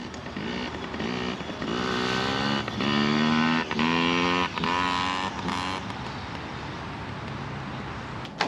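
A 2021 Yamaha PeeWee 50 kids' motorbike engine running nearby, a buzzy small-engine drone that rises and falls as the throttle is worked, then settles to a quieter idle.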